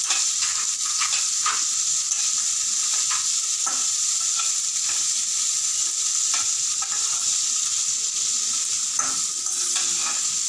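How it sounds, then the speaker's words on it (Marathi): Chopped onions sauté in a pan for a Vidarbha-style chivai leaf bhaji, a continuous bright sizzle with occasional soft scrapes and stirring clinks, close and steady with no talking. "हा 1-2 मिनटं कांदा छान परतून घ्यायचा"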